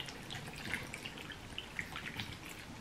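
Coconut water poured over ice into a cereal bowl, giving a faint, soft trickle with scattered light drips and splashes at irregular moments, close by and quiet, with no talk.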